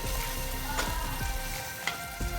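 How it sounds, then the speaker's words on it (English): Green chillies fry and sizzle in a pan while being stirred, a steady close hiss with a few soft scraping strokes of the spoon, no voices. "So now open the lid and mix the mirchi perfectly."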